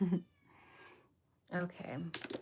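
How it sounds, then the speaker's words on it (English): Small foster kittens mew in the background, thin high cries coming in a couple of brief bursts between quiet gaps, while someone says a short word nearby. "So if you hear little kittens screaming in the background"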